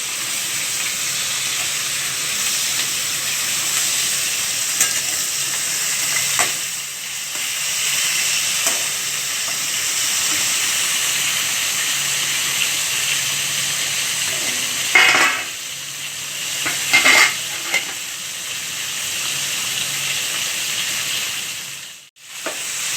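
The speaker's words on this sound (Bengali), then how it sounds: "আবার গ্যাসটাকে মিডিয়াম ফ্লেমে দিয়ে আবার আমরা এপিট ওপিট করে ভাজতে থাকবো।" Katla fish heads frying in a pan over a medium flame, a steady hissing sizzle throughout with a few louder bursts and stirring clatters near the end.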